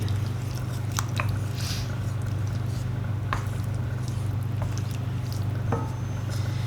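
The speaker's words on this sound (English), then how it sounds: "So we're going to add in our sour cream, and you just want to stir this through off the heat." Sour cream is stirred into beef stroganoff off the heat, giving soft wet squishing and a few light spoon clicks, close and quiet over a steady low hum.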